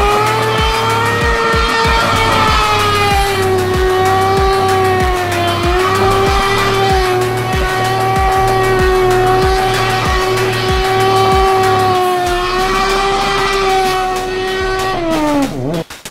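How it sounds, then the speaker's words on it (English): A car engine whines at high revs while tires squeal continuously, with a rhythmic pulsing as it spins in circles, close and loud. "The car does great donuts"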